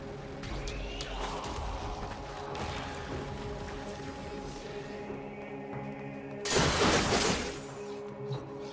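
A single loud, brief shattering crash of objects being smashed in the video game Warframe, bursting out over steady in-game background sound.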